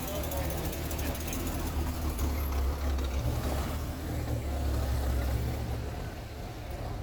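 A car rolling into a Labor Day car show in Tennessee, its low engine rumble steady and fairly close, with mechanical clatter and crowd noise around it and people talking nearby.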